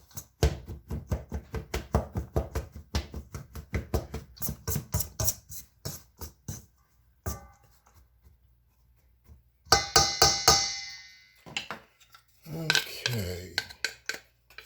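A knife chops extra sharp cheddar cheese on a board for garlic cheddar jalapeño biscuits, a close run of quick, steady taps, followed later by a few scattered kitchen clatters and scrapes.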